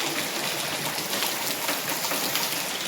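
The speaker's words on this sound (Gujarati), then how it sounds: "ફૂલ વરસાદ વહરે" Heavy rain pours down at night in Gujarat, a dense, even hiss of falling water that stays constant and fairly close with no voices.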